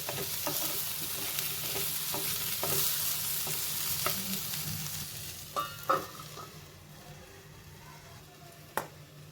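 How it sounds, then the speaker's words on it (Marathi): Steady sizzling of onion and tomato sautéing in a pan, with occasional stirring scrapes and a few sharp clanks of a spoon. "आपलं कांदा टोमॅटो परतला जातो आहे"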